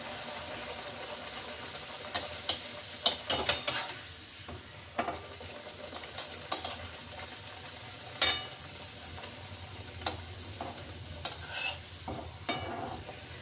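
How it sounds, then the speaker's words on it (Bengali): A green peas kachori fries in darkened oil in a pan, a continuous close sizzle punctuated by irregular clinks and scrapes of a utensil turning it, with no voices. "এবার আমি এক পিস আপনাদেরকে ভেজে দেখাই।"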